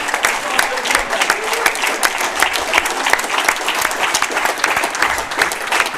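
Sustained applause and clapping from a crowd at a ladies' 4-wall handball national final, dense and steady throughout, with faint cheering mixed in.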